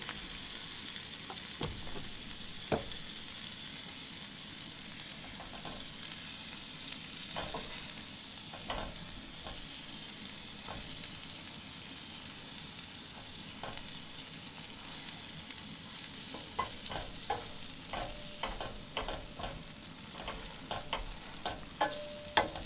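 Butter sizzles in a pan on a Coleman 5466A propane camp stove: a soft, steady frying hiss broken by scattered clinks and scrapes that grow more frequent toward the end, with no talking.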